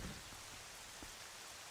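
Rain ambience in the Twilight Princess Dusklight game, a steady dense hiss of falling rain with no music, even and unbroken throughout.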